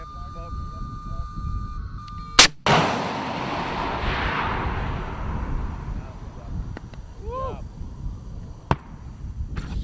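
An FIM-92 Stinger missile launches with a sharp, loud crack, followed by a rushing roar that slowly fades as it flies away, while people talk nearby.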